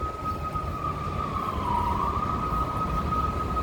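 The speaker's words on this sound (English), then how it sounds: "You can hear sirens." Emergency vehicle siren wails steadily at a distance on a rainy day in downtown Chicago's Streeterville hospital district, holding a sustained tone over a continuous low rumble of city traffic.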